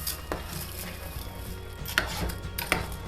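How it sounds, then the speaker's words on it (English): A spoon scrapes and knocks inside a soup pot of minestrone as pasta and beans are stirred, with soft wet shuffling and two sharp metallic clinks near the end, close and without talk. "Now I'm going to give that a stir."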